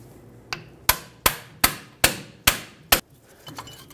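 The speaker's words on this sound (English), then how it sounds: "use a hammer on the back of the pry bar" Sharp metallic hammer blows on a pry bar during brake caliper work on a Chevrolet Silverado 2500 HD, one light tap followed by six hard, evenly spaced strikes, close up and ringing briefly, then faint scraping.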